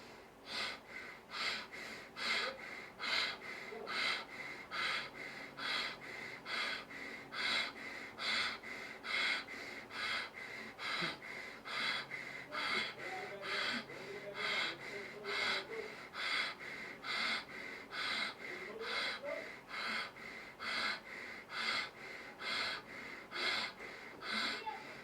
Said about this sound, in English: We're going to return to Bhastrika Pranayama for 2 more rounds.